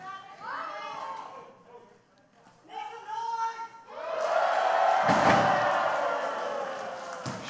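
A wrestler is slammed down onto the ring mat at an indie women's match in Richmond, B.C., a loud broad thud landing midway through, amid crowd noise and children's shouting after a quieter stretch.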